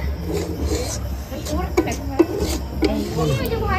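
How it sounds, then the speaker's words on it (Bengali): A rolling pin presses and rubs over slices of bread to flatten and soften them, giving a soft, steady scraping with a few light knocks, near and fairly quiet, with faint voices in the background. "এইভাবে দেখো পাউরুটিগুলো হালকা করে একটু বেলে নেবো, মানে নরম করে নেবো"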